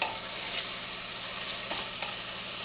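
Onions and chopped green chilies fry for Punjabi chole masala, a dense continuous sizzle close up with a few faint stirring clicks and no voice.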